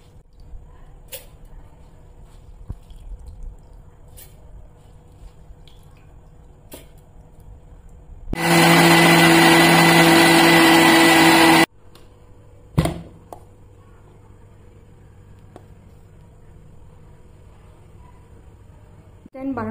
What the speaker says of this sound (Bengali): আমি এটা মিক্সিতে এখন পিষবো।